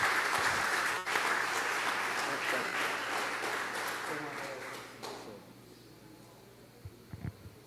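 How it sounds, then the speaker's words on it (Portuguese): Church congregation applauding during a worship service, a broad wash of many hands clapping that gradually fades over several seconds, leaving a low hum and a few faint scattered sounds. "Se você puder, aplauda Jesus aí neste lugar."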